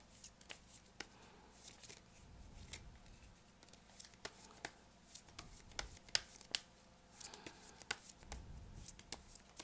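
Tarot cards being shuffled and drawn in a quiet room, with soft riffling bursts and sharp card snaps and flicks scattered irregularly throughout, close and fairly faint.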